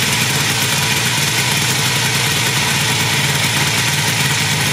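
A homemade helicopter built in 1979 runs its engine with the rotor blade vibrating, a loud, unbroken mechanical roar filling the whole stretch without pause.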